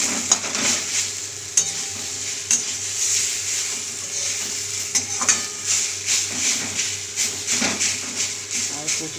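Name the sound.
frying taro leaves with hilsa fish head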